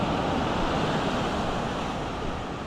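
Ocean surf washes steadily onto a beach, a loud, continuous wash of waves mixed with wind buffeting close to the microphone.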